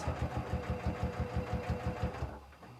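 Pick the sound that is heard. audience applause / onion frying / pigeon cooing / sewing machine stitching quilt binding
sewing machine stitching quilt binding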